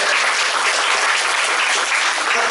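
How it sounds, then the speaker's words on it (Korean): A church congregation applauds steadily during worship, loud and close, sustained clapping throughout with no talking. "우리 박수 하겠습니다."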